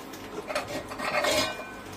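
Metal lid set onto a cooking pot, a short close clatter and scraping rattle of metal on metal lasting under two seconds, with no talking.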